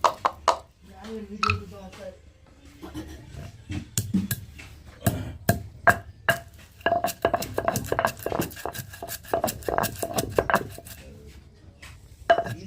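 Coriander seeds, coconut, ginger and garlic pounded into paste with a stone pestle, making steady repeated knocks and grinding thuds up close, with someone talking at the start.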